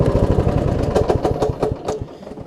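A Kohler Courage engine on a Husqvarna YTH21K46 lawn tractor, loose and leaking, idles with a steady rapid putter and clatter up close, fading slightly toward the end.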